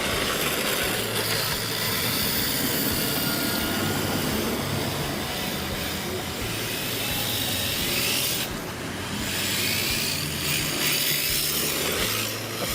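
An RC drift car runs with a heavier-than-usual battery, its electric motor giving a loud, steady, continuous whine that swells and eases slightly as it accelerates.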